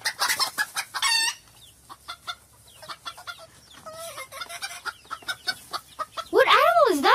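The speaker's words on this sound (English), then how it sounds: "What animal is that? Ah, it's a chicken." A chicken clucks in quick, irregular bursts, with a rooster crowing loudly near the end; close and clear.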